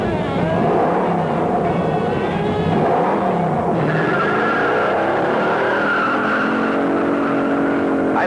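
A 1969 Dodge Charger 500 with a 426 Hemi and TorqueFlight automatic accelerates hard off the line, its engine note loud and rising through gears, with possible tire squeal and no talk over it.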